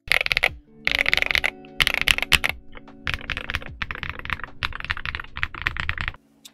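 A mechanical keyboard fitted with Kinetic Labs cloud switches is typed on in quick bursts of crisp, close clacks, pausing briefly between runs of keystrokes.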